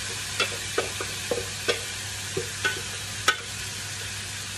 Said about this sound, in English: I'm going to chuck all these veg with the juices straight into the rice.